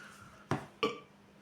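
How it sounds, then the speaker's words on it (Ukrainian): Two short, loud burps in quick succession after drinking Monster Energy Ultra sugar-free energy drink, each a sharp belch that fades, with no talk around them. "Чекайте, бо тут така відрижка буде."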